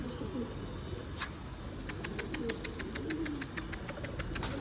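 A pigeon coos in a rhythmic series of soft, repeated calls over a low hum of distant traffic.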